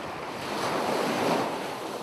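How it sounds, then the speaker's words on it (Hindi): Ocean waves wash on the shore in a continuous broadband roar that swells slightly in the middle, with wind noise and no voices. "समंदर के लहरों के शोर में कुछ पल वहीं खो जाता है।"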